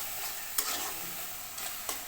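Turmeric and chili powder being fried and stirred in a pan, a steady soft sizzle with a few faint scraping stirs, no voices.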